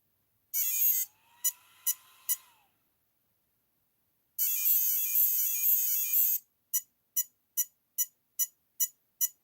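Calibration tones from an RC car's electronic speed controller powered up at full throttle: a few high beeps, then a long continuous tone, followed by a quick even series of short beeps, all clear and alone with no talking.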